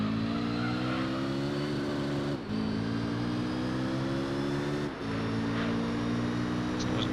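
Japanese touring cars racing in Gran Turismo 3, a steady loud engine drone with rising revs that briefly drops at two gear shifts before climbing again.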